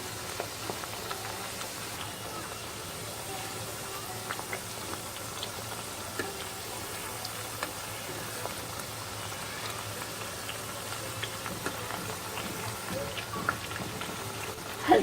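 Fenugreek flour papdi fry gently in oil heated over medium gas, a continuous soft sizzle and crackle with small pops, steady and close throughout.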